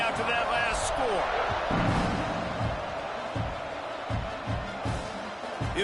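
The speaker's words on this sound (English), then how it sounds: "this crowd is buzzing after that last score" A packed stadium crowd at a college football game, Oklahoma Sooners versus Georgia Bulldogs, sends up a steady, dense roar and murmur after a score, heard from a distance throughout with scattered thumps and louder swells.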